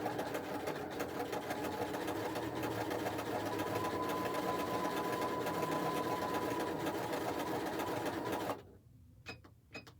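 A home sewing machine runs a steady overcast stitch at a fairly wide stitch width, humming continuously and close by for about eight seconds before stopping, followed by a few faint clicks.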